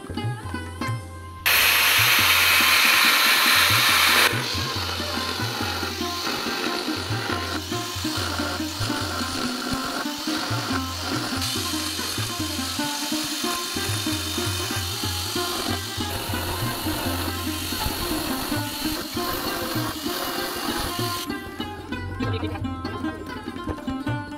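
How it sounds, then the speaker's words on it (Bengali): A machine blade cuts through marble while shaping a peacock figure, a loud continuous grinding whine with a sharp harsh stretch near the start, then a steadier rasping drone with rhythmic low pulses, close and unbroken. "এটা অ্যাকচুয়ালি যে ডিল অথবা মোল্ডিং মেশিনে যে ফলা থাকে, ওই ফলা দিয়েই এটাকে কাটিং করা হয়"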